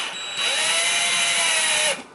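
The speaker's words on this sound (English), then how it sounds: "Let's go ahead and just screw this in a little bit more," A power drill or driver screws an electrical outlet into its wall box, giving one close, loud, high whirring burst of about a second and a half before stopping abruptly.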